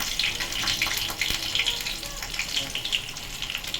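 Water pouring into a cooking pot of Bengali fish curry, a steady gushing splash that runs the whole time, close and fairly loud.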